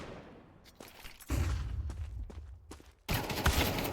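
Gunfire in Counter-Strike 2: sharp rifle shots in quick clusters, a few separate cracks then rapid bursts, close and punchy against a quiet in-game background.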